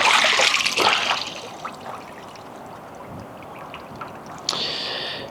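A test panel is lifted out of a pool of rainwater: a splashy pour and trickle of draining water at first, fading to a quiet drip, with a brief splash near the end.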